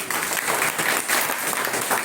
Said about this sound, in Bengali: এই জোরে একটা হাততালি হোক